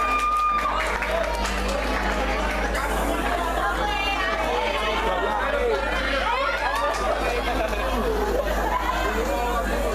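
An audience at a school arts performance claps and cheers for the class icons. The applause is a continuous, dense wash under loud crowd chatter and shouting throughout.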